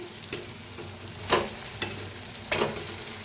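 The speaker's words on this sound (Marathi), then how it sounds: "आता भाजीला मिक्स करूया थोडंसं" Stuffed capsicum curry with turmeric and masala frying in a pan while a spoon stirs it, a soft steady sizzle broken by a few brief scraping stirs close by, with no talking.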